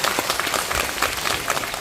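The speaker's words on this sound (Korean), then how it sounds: "박수 좀 한번 보내주세요." An audience at a local water-management presentation in Sokcho, South Korea bursts into dense, continuous applause, loud and close, filling the whole moment with no voices.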